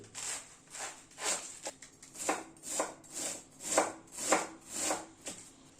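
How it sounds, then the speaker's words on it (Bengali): A knife chops through cabbage in a slow, even rhythm of about a dozen crisp strokes, each a close, soft crunch against the board, with nothing else heard. "এভাবে বাঁধাকপিটাকে কুচিয়ে নিচ্ছি"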